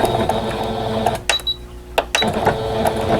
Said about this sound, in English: So we're going to just sew all the way around